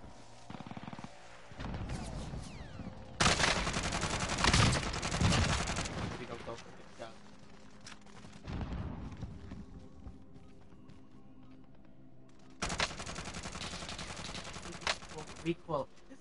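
Call of Duty Warzone M4 rifle fire in loud sustained bursts separated by quieter stretches of game sound, with a voice speaking in the gaps.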